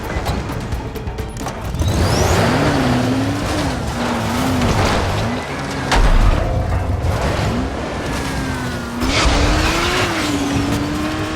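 A vehicle in the game Dying Light: The Following, its engine droning and revving in waves while tires squeal and crunch over terrain, loud and close throughout with no talking.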